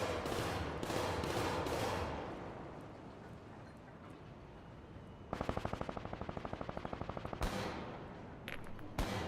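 Gunfire in the shooter game Combat Champions, with several loud shots followed by a long rapid burst of evenly spaced rounds and a final few cracks, all loud and up close with no voices.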